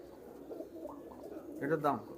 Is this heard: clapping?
no